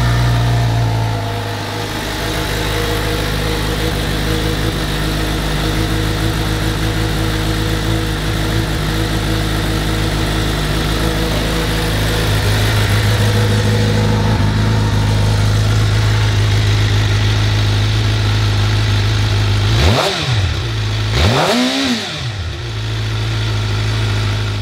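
A 2022 Suzuki GSX-R750 motorcycle engine idles steadily with a loud, close hum, then the throttle is blipped twice near the end in quick rising-and-falling revs.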